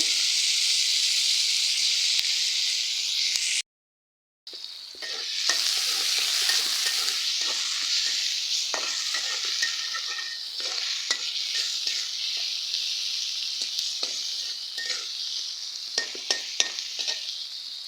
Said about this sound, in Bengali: এখন আমি চিংড়ি মাছ পেঁয়াজ কাঁচামরিচ দিয়ে দিব কড়াইতে